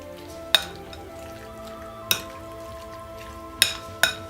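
Thinly sliced pork and bell peppers seasoned with black pepper and oregano crackle steadily in a pan, broken by four sharp metallic clanks of a utensil against the pan at irregular intervals, no voice.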